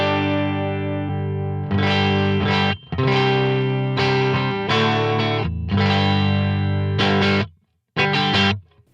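Electric guitar through a Line 6 HX Stomp stereo imager effect, with a wide, shimmering, chorus-like stereo sound playing sustained chords and phrases, with short breaks between them; no talking.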